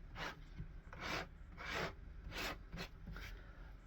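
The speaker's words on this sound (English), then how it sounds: "get a sanding drum and literally just go" A sanding drum rasps across plywood edges on a small sailing-boat wall-art cut-out made with a scroll saw, in about six short, regular strokes with brief pauses between them, close and fairly loud.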